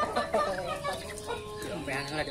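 Several fighting-breed rooster chickens cluck and chatter close by, with a person's voice mixed in among the birds.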